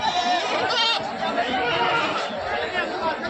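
At Babarpur goat market in Auraiya, a goat gives a short wavering bleat amid dense crowd chatter, with voices talking close by the whole time.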